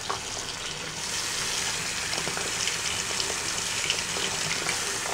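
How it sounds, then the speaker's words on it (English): Clean tap water gushes steadily into a basin being refilled for a hedgehog's bath, a continuous close, bright splashing flow with no talk over it. "And I'm going to put in some clean water"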